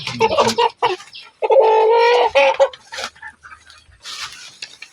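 A native rooster, one of a flock of about fifteen raised for meat, lets out a loud close crow amid short clucks and other fowl calls.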